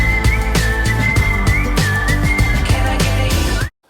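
A bright melodic whistle rides over a punchy pop beat, repeating short phrases before the music cuts off abruptly.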